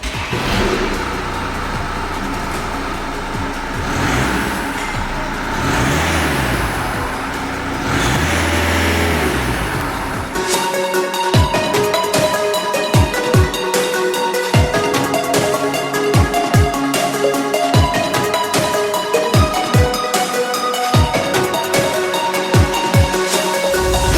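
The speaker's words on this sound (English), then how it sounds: "let's start it up and hear it" A VW Scirocco diesel engine with a catback exhaust and stage 1 map idles at a steady rumble, then cranks and starts into a louder, throbbing exhaust note with brief blips of revving.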